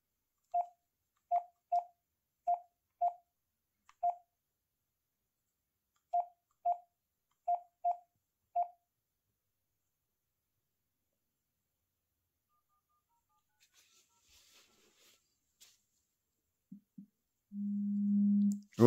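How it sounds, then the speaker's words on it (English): A Motorola G85 5G smartphone rings with an incoming call, giving a clear electronic tone repeated in quick evenly spaced pulses in two bursts. The pulses are followed by quiet and a brief low hum. "Okay, so the phone's ringing."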